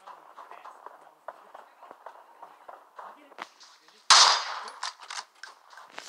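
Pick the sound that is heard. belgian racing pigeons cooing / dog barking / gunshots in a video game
gunshots in a video game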